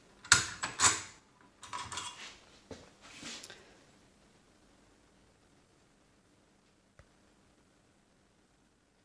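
A key slides into a Mottura 6x6 double bit lock (Pro Edition) in a short burst of close metallic scraping and clicking over about three seconds, followed by near silence with one faint click later.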